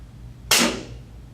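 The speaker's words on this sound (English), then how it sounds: "That noise, that's a spool inside that directional valve shifting" A solenoid-operated pneumatic directional valve shifts its spool in a single sharp hiss-click burst that decays within a fraction of a second over a faint background hum.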